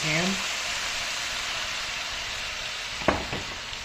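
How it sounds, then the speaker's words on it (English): Low-sodium soy sauce hits a hot pan to deglaze it for a Thai dish, giving a steady, loud, hissing sizzle throughout, with a brief voice at the very start and a sharp clack from the pan near the end. "I'm going to add some soy sauce to this. I use low sodium soy sauce to cook in there. Kind of deglaze the"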